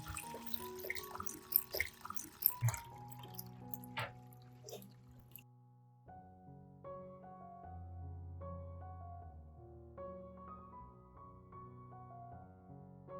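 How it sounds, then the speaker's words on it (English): Water from soaking lemons is poured out in a splashing, gurgling rush for the first few seconds, then stops while steady music carries on alone. "After soaking, pour out the water."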